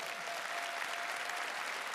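Dense, steady audience applause at a live concert in Botniahallen, a continuous wash of clapping from a large crowd with no talking over it.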